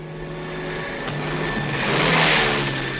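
A small two-seater propeller airplane drones steadily with engine tones that swell slightly as it passes, close and continuous, with no voices.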